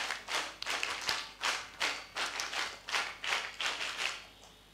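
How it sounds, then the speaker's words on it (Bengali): A Bangladeshi scout group at a school gathering claps together in the scout clap, about nine or ten loud, evenly spaced bursts in a steady rhythm with no talking. "ওনাকে আমরা কি স্কাউট তালি দিয়ে স্বাগত জানাবো স্কাউট তালি"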